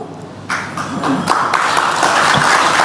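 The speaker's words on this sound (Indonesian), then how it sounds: "Tepuk tangan yang meriah" Enthusiastic audience applause at an Indonesian political speech event, starting softly, then swelling into sustained loud clapping from a crowd with voices mixed in.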